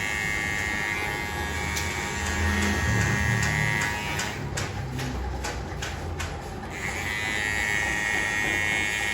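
An electric trimmer buzzes steadily up close, its tone briefly changing and roughening in the middle as it works, with no talking.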